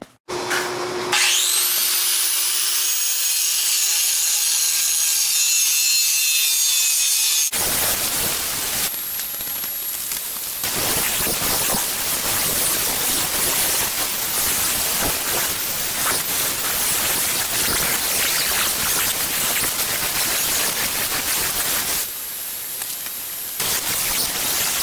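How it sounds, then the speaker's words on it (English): An angle grinder beveling a decorative sword blade in a workshop, a harsh continuous grinding roar that starts after a quieter spin-up and runs loud and close with short dips, no talk. "I'm going to be starting out with an angle grinder to try and really speed along the beveling process"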